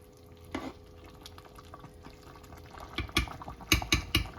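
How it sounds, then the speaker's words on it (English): Orange marmalade in a pot bubbles and is stirred, giving soft wet scraping and a few louder clacks and splashes toward the end over a quiet background. "And now I will put to boil again for 15 minutes."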